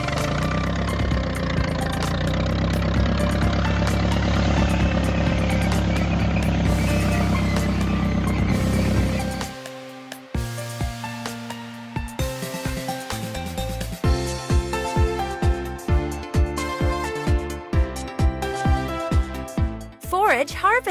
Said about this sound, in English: Tractor with sugar beet harvester.